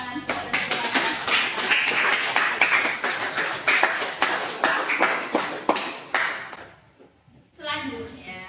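A classroom group claps for a student in a steady, rhythmic burst of sharp hand claps lasting several seconds. The claps fade out, and a brief voice follows.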